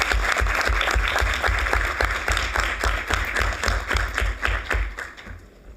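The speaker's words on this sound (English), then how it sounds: "Please give him a round of applause." Audience clapping at a board of trustees meeting, a fairly loud round of hand claps with a steady rhythmic beat that thins and fades toward the end.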